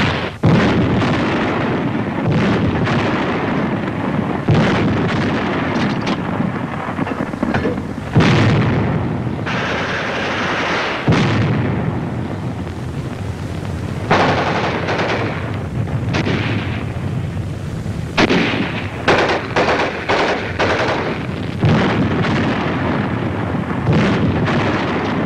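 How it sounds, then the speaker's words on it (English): An oil dump blowing up amid wartime artillery and gunfire, with repeated heavy booms and blasts over a dense continuous rumble throughout. "Another Jap oil dump goes up."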